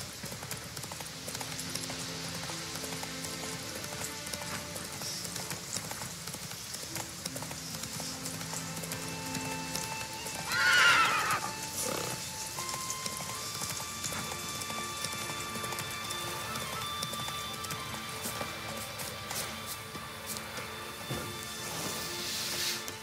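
A horse's hooves clip-clop steadily in The Witcher 3 video game, with a single brief neigh partway through and ambient game sounds throughout.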